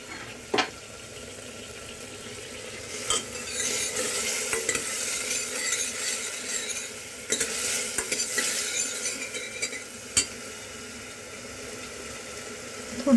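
Ginger and garlic roast in a pan for mutton paya soup, a steady close sizzle with occasional sharp clinks and scrapes of a utensil stirring.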